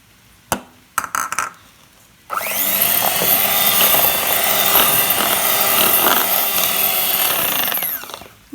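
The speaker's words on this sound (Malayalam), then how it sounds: "ആദ്യം ഒരു മുട്ട ഒഴിച്ചിട്ട് അടിക്കാം." Electric hand mixer beating eggs into plum cake batter in a home kitchen, a few clicks and taps, then a loud steady whirring drone of about six seconds that cuts off, close up.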